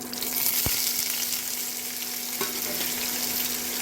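Onions frying in a pan for tomato pachadi, a constant loud close sizzle and crackle with a sharp clink early on and a faint scrape later, no one speaking.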